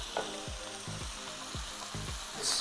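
Steak searing in a smoking-hot frying pan gives a loud, constant sizzle, with a rhythmic thumping pulse running under the spatter, close by.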